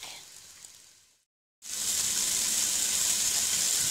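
Bacon frying in a pan for Southern fried cabbage, a steady hiss that drops out briefly and then returns louder as a continuous close sizzle, with no talking.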